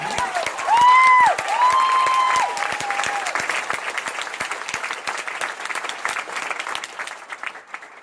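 Town hall audience bursts into sustained applause with some cheering and whistles, a dense mass of clapping that stays strong, then gradually thins toward the end.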